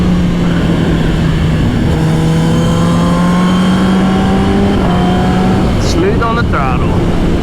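A 2022 Kawasaki Ninja ZX10R motorcycle pulls hard on the throttle, its engine tone climbing steadily in pitch under heavy wind rush, then dropping sharply near the end.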